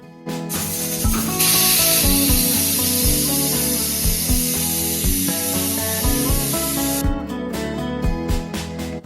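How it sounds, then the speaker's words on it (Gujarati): A pressure cooker boiling green moong lets off a loud, sustained steam whistle and hiss lasting several seconds, over a steady musical background. "કુકર બંધ કરી દેશું હવે આપણે એકથી બે સીટી કરવાની છે"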